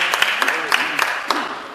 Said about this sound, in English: Can we have some applause, please